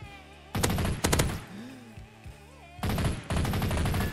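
Weapon fire in the arena shooter Blitz Arena, loud broadband bursts in two clusters at the start and end, with a quieter game-audio stretch between them and no talking.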